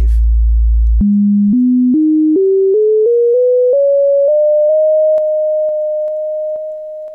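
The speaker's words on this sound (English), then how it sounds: "So it's just a single sine wave." A generated single sine wave tone, heard alone, rises in pitch through a series of stepped jumps, then holds a steady pitch while its volume falls away in steps.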